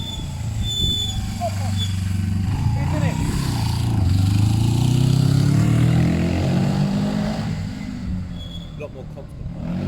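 A two-cylinder Suzuki GS500 motorcycle engine runs close and loud, with a lumpy, rumbling tone that swells and eases over several seconds. The engine drones steadily throughout with no break.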